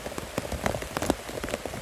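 Rain falls in a forest as a dense, steady patter, with heavier drops striking nearby surfaces and no voices.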